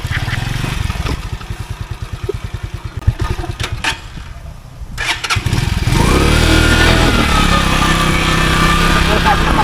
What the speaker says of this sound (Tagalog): Susubukan ni Calibre mag-motor ng bundok.